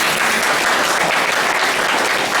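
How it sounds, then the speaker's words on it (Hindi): Dense, steady applause from a gathered audience at a spiritual class, a continuous loud wash of many hands clapping together with no pauses. "आप सभी अपने लिए भी एक बार ताली बजा दीजिए"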